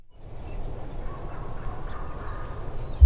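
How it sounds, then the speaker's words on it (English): Wild turkeys gobble and cluck steadily at a moderate distance, a continuous outdoor chorus with a louder burst at the very end. "it didn't take long for the hens and gobblers to start talking again."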